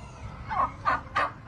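A turkey on a farm in Sri Lanka gobbles in three quick rattling bursts, fairly loud and close, with short gaps between them and no talking.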